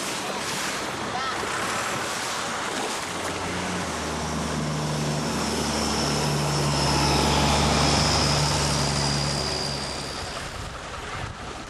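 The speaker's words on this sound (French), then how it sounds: "Ces embarcations à fond plat traversent parfois les klongs à pleine vitesse." Motorised flat-bottomed boats speed along a Thai klong, their engines droning steadily beside splashing water. The engine note swells and passes close by, then fades slightly, with wind rumble against the microphone throughout.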